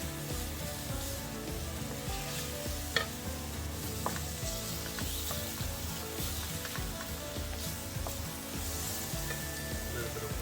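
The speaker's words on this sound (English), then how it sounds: "this will take a little bit of time for the kimchi to kind of like cook on the stove top" Kimchi stir-fries in an oiled pan on a stovetop, giving a steady close sizzle with scattered stirring scrapes and faint clicks throughout, no voices.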